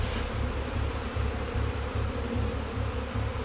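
Dense swarm of about 3000 honeybees crowding around a face, a loud, close, continuous drone with a low pulsing throb and no talking.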